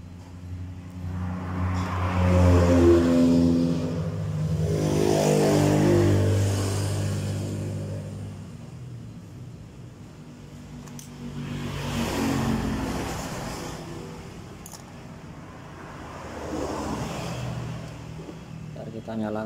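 A Honda Spacy FI motorcycle engine, one with a stuck oxygen sensor, runs steadily at idle with low harmonic tones and slight swells, and a voice talks over it throughout.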